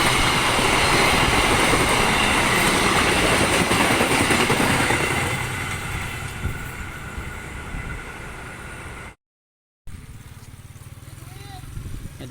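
An express train rushes past a level crossing, a loud continuous roar and rattle of rail cars close by that fades after several seconds, with a brief dropout near the end.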